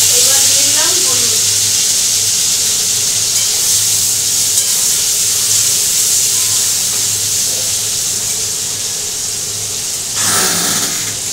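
Salted potatoes with turmeric fry in a hot pan, giving a steady, close sizzling hiss that runs throughout, with a brief louder flare near the end.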